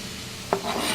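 Chopped onion going into a pan to start a sauce, giving a steady low frying sizzle with a brief scrape or clatter around the midpoint, then a fuller hiss that continues to the end.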